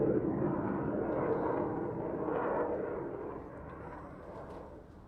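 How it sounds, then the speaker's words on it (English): A Gripen fighter jet flies at the Farnborough International Airshow 2016, its broad engine roar sounding from a distance and slowly fading over several seconds. "Gripen supersonic at all altitudes."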